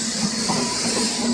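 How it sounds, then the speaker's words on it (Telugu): The Kacheguda–Repalle train approaches Secunderabad with a steady, loud rumble and hiss of wheels on rail, a continuous wash of noise with no voices. "అండ్ ఇక్కడ వస్తున్న ట్రైన్"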